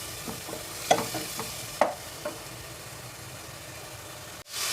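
Amaranth (cheera) stems simmer in a pan with water, with a steady low sizzle broken by a few sharp spatula clinks as they are stirred, and a louder surge of hiss at the very end.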